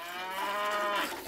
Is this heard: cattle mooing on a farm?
yes